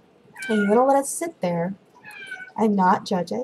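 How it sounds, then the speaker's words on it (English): A cat meows a few times in the background of a quiet indoor room, its calls mixed in with a calm voice leading a guided meditation. "you can probably hear the cat in the background"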